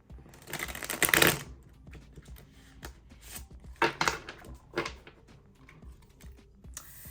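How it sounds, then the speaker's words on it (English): Crisp bursts of cards riffling and flicking together, a loud flurry at the start followed by a few shorter shuffles. "I was trying to shuffle a way that I really like to shuffle"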